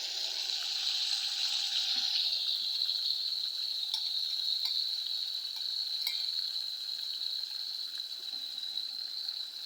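Meat frying with garlic in a pan, a steady close sizzle that runs the whole time with faint stirring clicks and no talk.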